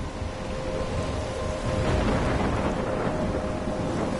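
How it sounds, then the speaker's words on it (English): A thunderstorm with heavy rain in the video game Life is Strange: a dense, steady hiss of rainfall with a low rumble of thunder swelling midway, loud and continuous with no voices. "I'm trapped in a storm?"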